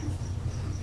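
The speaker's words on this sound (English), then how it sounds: "And we do have crickets over there." Crickets chirping in a room, a steady low insect trill running throughout, fairly close and unbroken with no talk over it.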